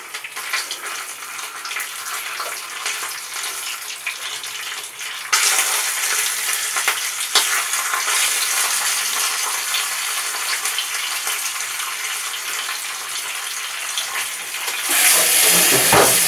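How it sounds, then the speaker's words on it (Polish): Fat sizzling and spitting in a hot frying pan while sweet-and-sour chicken is cooked. A continuous close hiss rises sharply partway through, and there is no speech. "Może zaczyna strzelać tłuszcz, także musimy to położyć."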